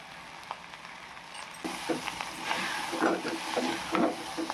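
Ginger garlic paste fries in a pan for a Telugu-style bitter gourd stew, giving a soft steady sizzle with brief stirring scrapes that grow busier partway through.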